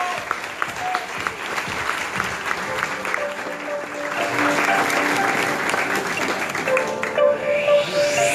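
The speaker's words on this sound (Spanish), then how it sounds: "Así que un fuerte aplauso para Tomás." An audience at a film festival's closing and awards ceremony applauds steadily, dense clapping filling the room for several seconds before it thins out, with a voice speaking over it near the end.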